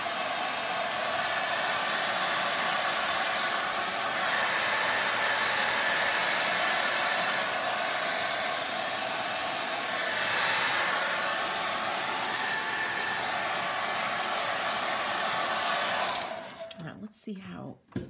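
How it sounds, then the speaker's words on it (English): A hair dryer blows loose chunks of failed milk paint off a surface, giving a steady, loud, continuous airy roar for most of the stretch before it abruptly cuts off near the end. "I'm blowing off the chunks of paint."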